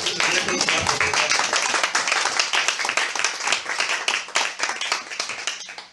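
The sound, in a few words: congregation applauding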